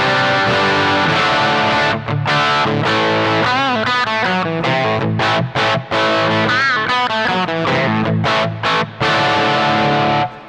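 Boosted electric guitar through a Quilter direct amp setup, loud, sustained chords and melodic runs with thick overdriven distortion and a touch of chorus, playing continuously with brief gaps between phrases.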